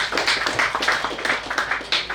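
An audience at a Rotary youth treasure hunt event claps on request, a close, brisk run of claps with a rhythmic, slightly uneven pattern.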